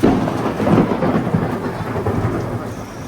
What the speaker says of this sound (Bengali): এই মারাত্মক বৃষ্টি হচ্ছে সেরকম বাজ পড়ছে